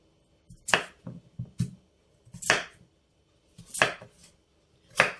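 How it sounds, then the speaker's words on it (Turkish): A knife chops peas on a cutting board in a slow, steady series of sharp thuds and taps, close and clear with no talking. "bezelyelerinizi istediğiniz büyüklükte doğrayabilirsiniz."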